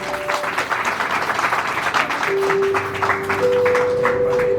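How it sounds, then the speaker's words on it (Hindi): Applause rises at a church gathering, a sustained patter of many clapping hands with a few steady musical tones held underneath. "जोरदार ताली बजा सकते हैं।"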